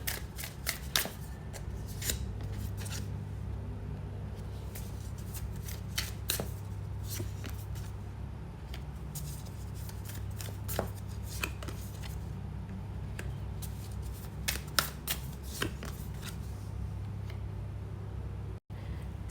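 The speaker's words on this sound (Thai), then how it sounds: "ขอเปิดไพ่เพิ่มนะคะ" Tarot cards are shuffled and laid out on a surface with quiet, repeated riffling flicks and soft snaps over a low, steady background hum.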